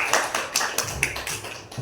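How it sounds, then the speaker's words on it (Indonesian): Students clap their hands together in a classroom, a brief patter of scattered claps, fairly faint and a little distant, with separate sharp hits about every quarter second and no talking. "Oke, tepuk tangan dulu semuanya."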